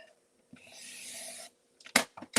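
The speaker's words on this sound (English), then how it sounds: "Let me trim just a hair off of it." Cardstock for a Stampin' Up! Christmas fun fold card trimmed on a paper trimmer, a smooth close slide of the blade lasting about a second, then a few quick taps and clicks.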